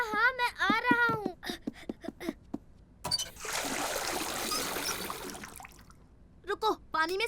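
Water splashes and trickles steadily for a few seconds while a stain is washed away, with animated cartoon voices talking before and after the running water.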